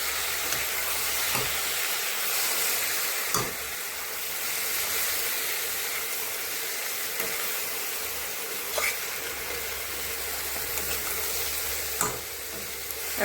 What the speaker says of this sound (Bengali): এই যে এখন এটা নেড়ে চেড়ে দেবো ভালো করে